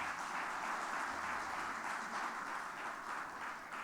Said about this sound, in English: A big round of applause for the speakers and all of us.